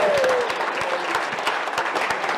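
At a wedding reception, a crowd of guests claps for the bridesmaids in a brief burst of steady, close applause that tapers off slightly toward the end, with a voice briefly audible under it.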